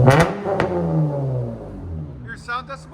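A 2008-2012 Honda Accord 3.5L V6 with straight-pipe exhaust revving up sharply near the microphone, then dropping back and settling into a rumbling idle, with people talking over it toward the end.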